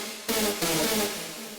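A synth lead for a techno drop sounds with detune and distortion engaged, giving two gritty, thick sustained stabs, the second held longer and fading, loud and close with no talking.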